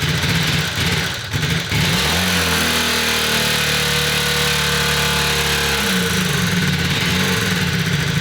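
Honda CB250 Super Dream engine held at a slightly open throttle, a steady close-up drone after a brief dip, with the pitch settling into a smooth sustained hum before picking back up.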